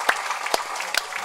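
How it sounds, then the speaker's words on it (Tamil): Applause from an audience at a Tamil movie audio launch, a brief burst of scattered, fairly loud clapping with several sharp individual claps standing out. "அரங்கம் அதிர நல்லா கரகோஷம் கொடுங்க"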